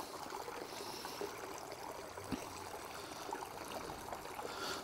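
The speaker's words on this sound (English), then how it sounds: "Absolutely pouring through there, like it's a waterfall." Floodwater from a storm pours steadily through a gap at a flooded riverside staithe, making a continuous rushing, splashing roar like a small waterfall, close and unbroken.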